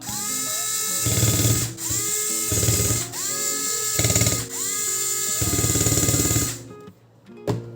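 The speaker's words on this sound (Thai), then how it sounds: "เวลาเราหมุนสว่านเห็นไหม มีไฟให้ดูด้วยโคตรเจ๋งนะฮะ" An electric screwdriver whirs in short bursts, five or six runs of a buzzing motor that rises and falls in pitch, with brief pauses and a sharp click at the end. Close and loud, with no talk.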